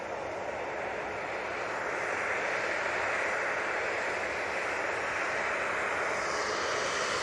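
An airliner taking off at Manchester Airport, its engine noise heard as a steady, fairly distant roar that builds slightly toward the end.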